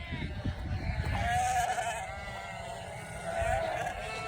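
Sheep are herded by sheepdogs on a Welsh hillside in the Brecon Beacons, bleating twice at moderate distance over low wind rumble.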